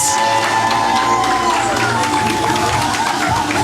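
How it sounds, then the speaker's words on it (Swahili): A dense, loud crowd roars with continuous applause and cheering at a political gathering presenting the Linda Mwananchi report, a steady wash of noise holding for the whole stretch. "Makofi tafadhali and congratulations."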